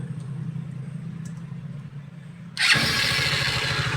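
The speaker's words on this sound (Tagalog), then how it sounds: "subukan na natin itong paandarin muna kung andar yung Supremo 150" Honda Supremo 150 motorcycle, its carburetor just cleaned after hard starting, catches on one click around halfway through and settles into a loud, close, steady idle after a quiet stretch of low rumble.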